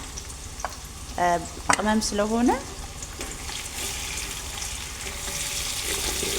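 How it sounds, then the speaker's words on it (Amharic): Onions and chicken frying in oil in a large pot, a steady close sizzle with a few stirring scrapes, while a voice speaks briefly over it. "እዚህ ጋር ቀይ እስከሚሆንልኝ ድረስ ጥብስ አድርገዋለሁ።"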